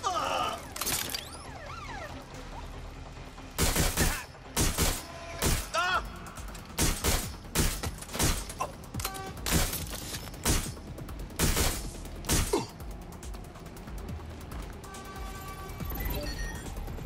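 Repeated bursts of gunfire in the video game Watch Dogs Legion, loud clustered volleys with short gaps between them over steady game background noise, some shots coming in quick rapid strings.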